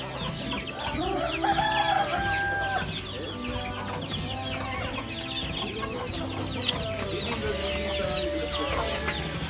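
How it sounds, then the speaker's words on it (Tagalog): Hens cluck busily in a dense, continuous chorus while a rooster crows, a noisy farmyard with overlapping bird calls throughout. "halo-halo ng manok"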